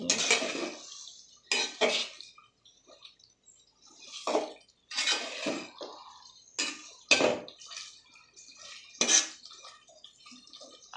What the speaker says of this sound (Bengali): দিয়ে আমি এখন নেড়ে চেড়ে মশলার সাথে মিশিয়ে নিই।